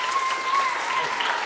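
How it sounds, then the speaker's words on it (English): Applause from an audience at a school chapel service, a steady close wash of clapping heard alone throughout. "give them a round of applause"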